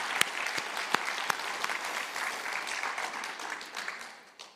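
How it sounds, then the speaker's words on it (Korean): A church congregation applauds during a Sunday Advent service with dense, sustained clapping. A few sharper claps stand out before the sound thins and fades at the end. "여러분 큰 박수 한번 부탁드리겠습니다."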